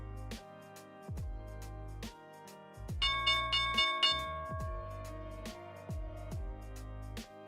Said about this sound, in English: here's the opening bell